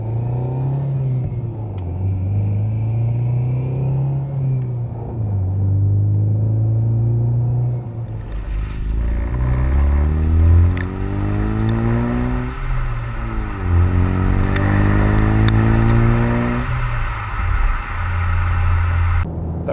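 Deep, rumbling exhaust note from a 2015-2023 Ford Mustang EcoBoost fitted with a MagnaFlow Street Series cat-back and JLT cold air intake, loud and close, rising through sweeping revs with several climbing pulls and settling back to a throaty idle.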